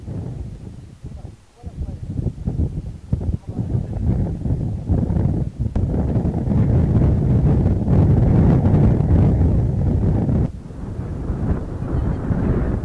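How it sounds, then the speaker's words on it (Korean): Strong wind buffets a ger on the open steppe, a loud, continuous roaring rush with gusty swells and a brief lull near the end. "바람이 워낙 심하게 불어 이러다 게르가 날아가는 게 아닌가 불안했는데"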